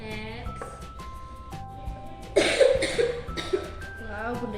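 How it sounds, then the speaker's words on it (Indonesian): A woman coughs a few times in a short burst during a kindergarten lesson, sharp and close, between stretches of her own talking. "batuk karena kurang fit ya"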